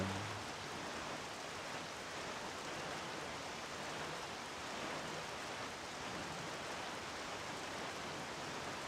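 Steady, even hiss of rainfall in a video game, a continuous wash of noise with no breaks, fairly soft throughout.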